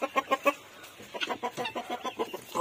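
A hen clucks close by in a run of short, rhythmic clucks, with a quick burst of four at first followed by a steadier series of softer clucks.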